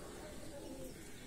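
Pigeons coo softly inside an aviary, a low, faint, continuous murmur of calls under steady background noise.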